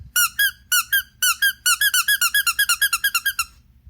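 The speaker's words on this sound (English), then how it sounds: "That's a pretty nice squeak. I don't know where the squeaker is located." Squeaker inside an Overwatch Pachimari plush toy, squeezed repeatedly: a few separate squeaks, then a quick run of about a dozen bright, close squeaks, with no talk over them.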